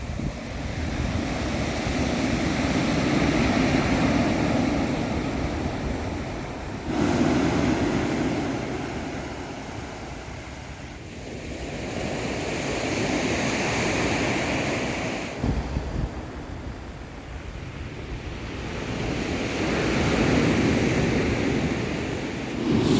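Ocean waves surge and recede in slow, repeating swells at the shore, with steady wind rushing across the microphone and no voices.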